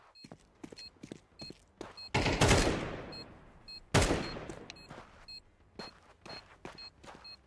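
Gunfire crackles through a video game firefight: scattered single shots and short bursts, with two loud, heavy blasts that ring out and decay, all alone without voices.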